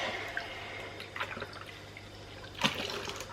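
Warm water runs and trickles into a container for cleaning a Cosworth air filter from a Subaru Impreza STI, a faint, steady splashing with a few brief louder gurgles.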